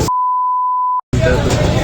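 A censor beep plays over a spoken perfume brand name: a steady pure electronic tone about one second long, cut off abruptly, followed by a brief silence and then someone talking loudly.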